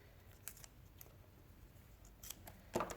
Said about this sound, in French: c'est avec les ciseaux là, je vais couper